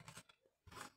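Scissors cut paper while a suitcase-style box is made: two short, close, crisp snips separated by a brief pause, quiet and with no talk.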